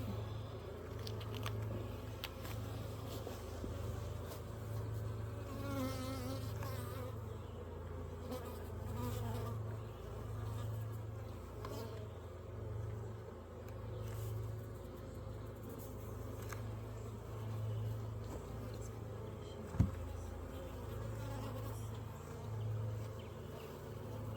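Honey bees droning around an open hive during a split, a steady dense hum of many wings close by, faint and even throughout with a single sharp click near the end.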